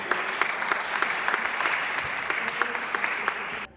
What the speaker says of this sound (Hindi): आपकी बहुत सारी तालियों की गूंज में तशरीफ ला रही हैं ऑस्ट्रेलिया से तशरीफ लाई शायरा नायला हुमा